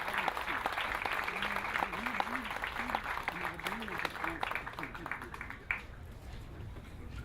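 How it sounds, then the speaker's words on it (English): Audience applause greeting a speaker at an Armenian Genocide commemoration event in Montebello, California, steady clapping mixed with voices and a pitched vocal line over it, fading out near the end. "Please give him a round of applause."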